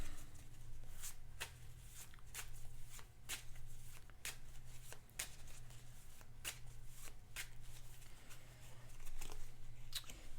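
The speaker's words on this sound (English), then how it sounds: "Let me go ahead and do a quick shuffle on my major power deck." Quick shuffle of a deck of major power cards for the board game Spirit Island, a steady stream of soft riffling clicks and papery snaps, close and moderately quiet, with no talk over it.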